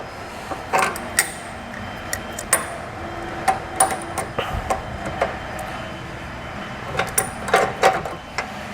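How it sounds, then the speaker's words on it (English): A crescent wrench tightens a bolt on a Blue Ox base plate fitted to a 2019 Buick Envision, giving irregular sharp metallic clicks and clanks in small clusters against a quiet background. "I'll take my crescent wrench here, and I'll just turn this a 1/4 turn or so to tighten it up"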